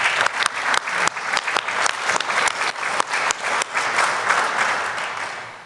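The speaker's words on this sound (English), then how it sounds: "I believe this deserves a round of applause." Audience applause at a quarterly sheriff's office briefing, a steady round of many hands clapping at close range, holding for several seconds before starting to fade at the end.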